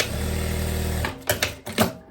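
A sewing machine runs in a steady fast whir for about a second as it stitches ruffles on a viscose dress, then stops. A few soft handling clicks and rustles follow.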